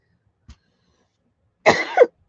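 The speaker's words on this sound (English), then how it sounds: "if I can't stop coughing" A single close, harsh cough following a faint tap, short and raspy with a throaty catch at its end, otherwise quiet.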